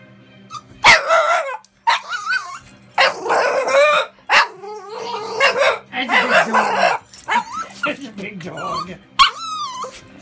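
A big dog barks and yips repeatedly in short bursts, up close, with whining between barks and a person talking over it.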